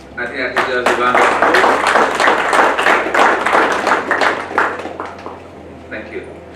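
Audience applause breaks out at an investment breakfast roundtable, a dense burst of close clapping that builds quickly and then thins, with a voice talking over it.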